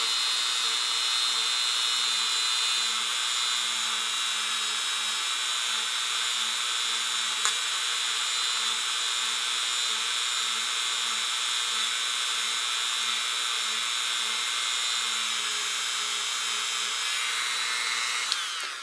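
A handheld power tool polishing the feed ramp of a pistol barrel, a steady high-pitched whine running continuously and close for the whole stretch, with one brief tick midway before winding down at the end.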